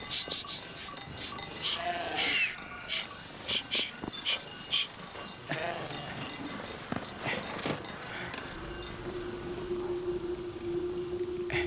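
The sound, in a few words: flock of sheep being herded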